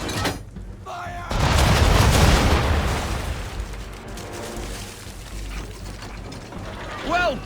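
Ship cannons fire a broadside in Assassin's Creed III, a loud booming burst of overlapping blasts that swells from about a second in and rumbles on, with a voice heard at the start and end.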